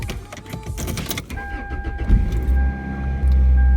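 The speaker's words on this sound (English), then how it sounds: "That I-4 roar." Keys jingle and rattle in a Toyota Celica before its four-cylinder engine cranks, catches and settles into a loud, close, steady idling roar.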